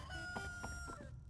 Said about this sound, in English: if you haven't heard the roosters crow